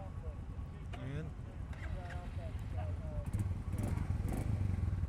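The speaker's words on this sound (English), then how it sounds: "whoa, the engine sounds nice." A Royal Enfield Meteor 350 Fireball (2021) single-cylinder cruiser engine runs steadily with a low, thumping rumble, close by, while a person talks over it.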